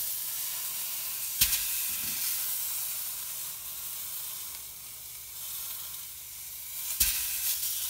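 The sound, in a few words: sous vide mock tender steak searing on its edges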